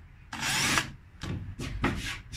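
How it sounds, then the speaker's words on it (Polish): A power drill boring shallow holes into a boat repair insert for screw heads, several short bursts of whirring with brief pauses between them, close and fairly loud. "delikatnie ponawiercam wklejkę, tylko po to, żeby mi się schowały łebki od wkrętów, żeby nie wystawały podczas laminowania"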